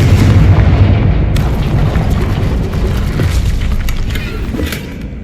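A Confringo blasting spell detonates in the Hogwarts Legacy video game, a loud deep boom that hits at once and rumbles on with a long, heavy tail of rolling low roar.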